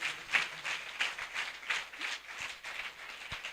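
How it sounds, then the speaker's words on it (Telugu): A congregation at a Christian gospel meeting applauds in a steady, fairly faint patter of many hands, slightly distant. "వారికి గట్టిగా ఒకసారి చప్పట్లు కొట్టండి."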